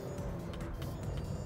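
A Ford Mustang GT California Special accelerating hard in fifth gear on a track, a loud, steady engine roar that holds throughout without letting up.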